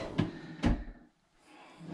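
A drawer on a wall-hung Roca two-drawer bathroom unit slides open or shut, giving two quick close knocks followed by quiet.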